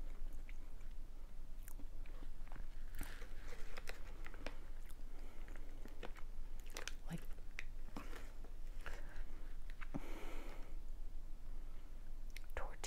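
Crunchy tortilla-like snack from a ZestBox subscription box chewed close to the mic in repeated crisp bites, with soft whispered speech between them.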